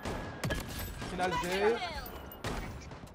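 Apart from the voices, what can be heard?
gunfire in the video game Blood Strike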